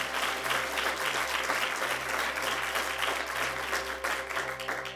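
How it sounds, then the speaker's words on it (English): A church congregation bursts into sustained applause during a service, a thick, steady wash of many hands clapping that lasts throughout, with scattered cheers mixed in. "Come on, clap and cheer for him."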